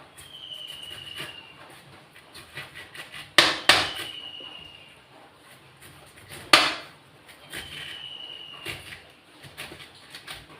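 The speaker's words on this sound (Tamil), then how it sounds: "இந்த மாதிரி எல்லாத்தையும் கொஞ்சம் மெலிசாவே கட் பண்ணிப்போம்." A knife slices a pineapple into thin pieces for a pineapple fry, giving soft scraping cuts and a few sharp knocks of the blade striking the cutting board, all close and quiet.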